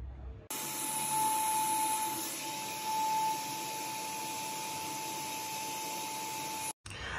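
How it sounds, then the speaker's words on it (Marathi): A vacuum cleaner switches on with a sudden loud steady whine and hiss while cleaning a home AC unit, then runs evenly close up before cutting off abruptly. "हे खाली व्हॅक्यूम क्लिनर आहे, आता चालू केलं की असं ब्रशने आपण साफसफाई करू शकतो"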